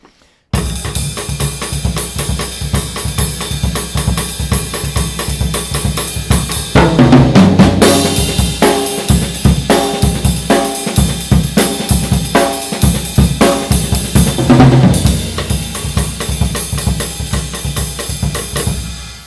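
Samba comping in a partido alto rhythm, a steady syncopated accompaniment with regular accents running throughout, loud and continuous with no talking, building to fuller bursts at two points.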